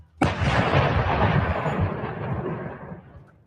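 A single booming shot from a Pakistan-made SH-15 155mm self-propelled howitzer, a sharp loud blast followed by a long rolling rumble that fades over about three seconds.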